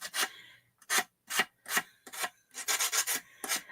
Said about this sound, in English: I don't know if this sandpaper just sucks or what.